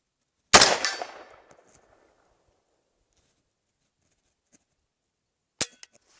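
Gunfire from a firearm in freezing winter cold while camping out of a truck: one sharp, loud shot with a ringing decay, then a long quiet gap before a second crisp report near the end.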